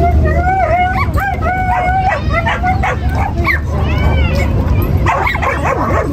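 Many dogs barking, yipping and whining continuously at a Friday pet market, the big-dog section, loud and close, overlapping barks from several animals with a person talking underneath.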